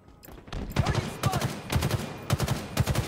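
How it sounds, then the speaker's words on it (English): Rapid bursts of automatic gunfire from Halo Infinite capture-the-flag on the Argyle map repeat in clustered volleys across the clip, loud and close, with a faint streak of other game effects between shots. "I'm getting shot at in the back"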